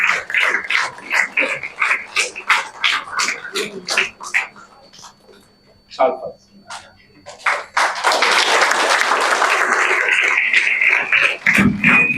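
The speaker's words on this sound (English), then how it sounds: "Give a big round of applause, guys" An audience at a felicitation ceremony for Indian Forest Service exam achievers claps in a dense round of applause with a voice over it. The clapping pauses, then returns louder and fuller.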